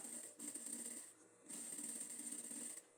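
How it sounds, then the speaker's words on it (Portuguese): A sewing machine stitches around the curve of a men's short-sleeve shirt collar in two steady runs of rapid mechanical ticking, separated by a brief pause, heard close and alone. "Ao fazer o acabamento aqui na curva, você costura com cuidado, sempre costurando devagar para não escapar a agulha no costurar."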